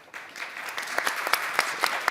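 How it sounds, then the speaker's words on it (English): Scattered audience applause at a panel event on online safety, fairly faint and uneven, with a few sharper claps standing out near the end. "If we could just give it to Ellen, and a round of applause for Ellen."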